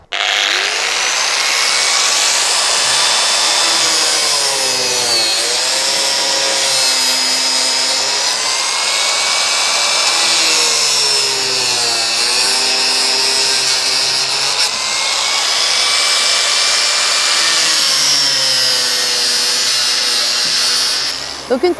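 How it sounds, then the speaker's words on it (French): An angle grinder cuts slots for a homemade strawberry tower, a loud, continuous high-pitched whine that rises and falls in pitch as it bites in, steady for over twenty seconds. "vous allez faire un trait d'environ 7 cm qu'on va couper ensuite à la meuleuse"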